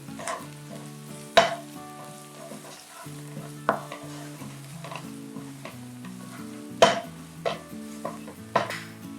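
Masala of chili powder, turmeric, coriander powder and rock salt frying in a pan for a Muslim-style brinjal gravy, a steady close sizzle broken by repeated spoon stirs and scrapes, no talking.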